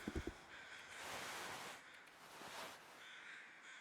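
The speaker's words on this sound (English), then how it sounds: "Hey, the crows are back." Crows cawing in The Long Dark survival video game, a few quick harsh caws up front followed by a soft rustling wind-like ambience, fairly faint overall with no talk.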